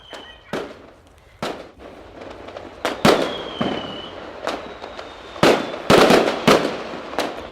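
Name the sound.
fireworks going off on New Year's Eve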